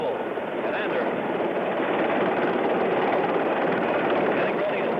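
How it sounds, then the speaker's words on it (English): A recovery helicopter carrying the Apollo 8 astronauts approaches to land on a ship's deck in 1968, its rotor and engine noise forming a constant, dense, broadband roar throughout, heard from a distance over a broadcast line. "Helicopter number 66 with astronauts Borman, Lovell, and Anders."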